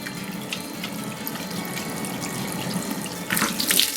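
Running tap water pours steadily into a sink while face cleanser is rinsed off, a soft continuous splashing that swells briefly louder near the end.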